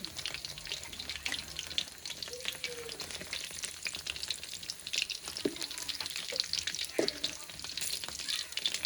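Fish frying in a small amount of oil gives a steady, fairly faint crackling sizzle with scattered pops, plus a few clinks and scrapes from turning the fish.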